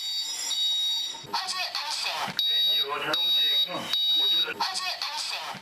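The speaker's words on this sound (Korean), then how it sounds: "불이 붙은 지 3분 13초, 연기 감지기가 작동하고" A smoke detector shrieks in loud, repeated high-pitched beeps during a house fire test, with intermittent talking and noise between the alarm bursts.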